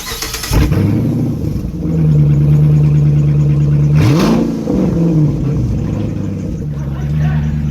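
A car engine with a newly installed exhaust idling loudly up close, then revving up and dropping back in a couple of throaty bursts before settling to a rumbling idle.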